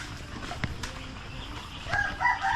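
Native darag chickens on a farm, a rooster crowing close by with scattered clucks and clattering around it, the crow rising loud near the end.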